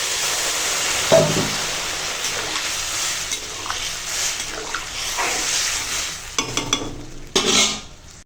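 Soaked peas tipped into a pan of fried spices for ghugni, followed by a steady close sizzle, scraping stirs and a few metallic clinks of a spoon against the pan near the end.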